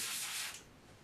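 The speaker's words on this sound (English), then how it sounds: "Spraying through the brush." An airbrush sprays paint in a short, steady hiss that is loud for the first half second and then eases to a softer, thinner spray, with no voices.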